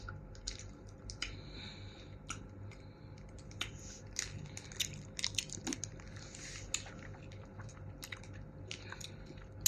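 Someone chews a sticky, sour-sweet jelly snack close to the microphone, producing soft, irregular wet clicks and smacks in a quiet room.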